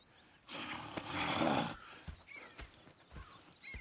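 A horse snorts and whinnies loudly for about a second in the video game Red Dead Redemption 2, followed by a few scattered hoof clops and soft thumps, with no voices.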